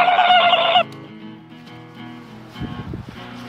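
A voice imitates a turkey call outdoors, a brief loud gobbling burst at the start followed by quieter clucking sounds.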